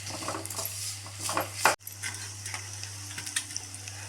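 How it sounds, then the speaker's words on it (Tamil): A spoon stirs onions sautéing in a pan for wheat rava kichadi, with soft scraping and clinks over a low stove hum and one sharp knock against the pan. "எல்லாம் சேர்ந்து கோல்டன் கலர் சேஞ்ச் ஆகிற வரைக்கும் வதக்கி விட்டுக்கலாங்க"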